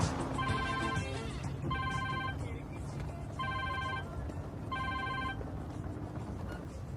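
A telephone ringtone rings in four evenly spaced bursts, loud and steady over a continuous background hum.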